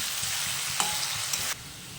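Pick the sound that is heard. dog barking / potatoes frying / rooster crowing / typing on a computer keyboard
potatoes frying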